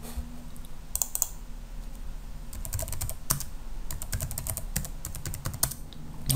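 Password being typed on a computer keyboard, bursts of quick, close key clicks in irregular clusters over a faint steady background hum, with no talking.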